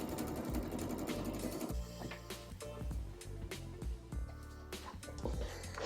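Close, loud sewing machine running a double-needle hem on a sleeveless lined dress, a continuous fast rattle with small shifts in pace and light clicks throughout.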